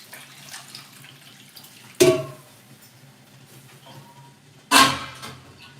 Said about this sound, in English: And just add a little bit of more water to cover it.